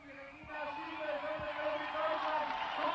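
A crowd at the 1995 Mountain Bike World Championships women's downhill race cheers and roars loudly and continuously, the noise building as it goes, with a few dull thumps near the start.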